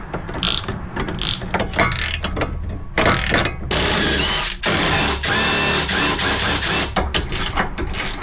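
A ratchet cinches down bolts on a 3D-printed lift kit for an off-road vehicle, giving loud, close, rapid clicking strokes that run almost continuously, with no talking.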